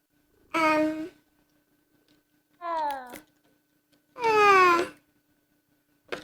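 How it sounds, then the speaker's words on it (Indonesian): Several cats meow in the video game Hogwarts Legacy, three distinct drawn-out calls spaced apart, clear and close with quiet between them. "Hey, ini kucing-kucing ini banyak ya."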